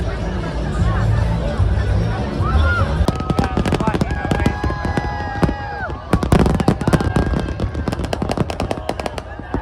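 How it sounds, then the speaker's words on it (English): Rapid, loud bursts of fireworks crackling and popping in dense volleys over a crowd's noisy chatter in Brazil, with whistling streaks rising between the explosions. "These were the best fireworks I've ever seen in my life"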